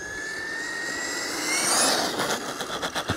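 An RC car on a 3S lipo battery accelerates into a wheelie, its electric motor rising to a loud high whine before breaking into rough, pulsing bursts as the car lands and rolls on.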